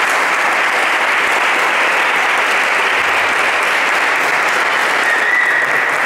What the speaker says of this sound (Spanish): queremos dar un pequeño aplauso a ustedes